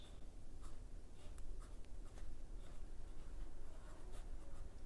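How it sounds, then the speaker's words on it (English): Faint, close scratching of a Eureka pen moving across paper, with soft irregular strokes over a low steady background hum. "Okay, so writing sample."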